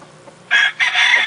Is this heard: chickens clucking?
yes